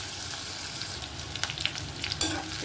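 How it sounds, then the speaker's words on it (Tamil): Onions sauté in a pan with a steady, close sizzle and a few light stirring clicks, heard alone for under three seconds. "இப்போ வெங்காயம் நல்லா வதங்கிட்டோம்"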